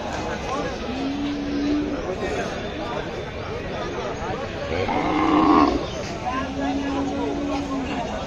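Cattle at the Gabtoli Qurbani cow market moo three times in long, low calls, two close together and one later, over a steady background of crowd noise and voices.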